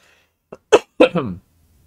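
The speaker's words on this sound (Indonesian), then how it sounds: "gue masih batuk-batuk nih" A few short, harsh coughs in quick succession, close and fairly loud, followed by quiet.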